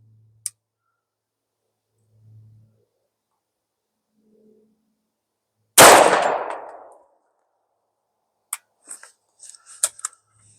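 A single sharp shot from a Grand Power P40 10mm semi-automatic handgun with a rotating barrel, fired double action at a target 25 yards away outdoors, bursts loudly and decays, followed by faint clicks and clinks.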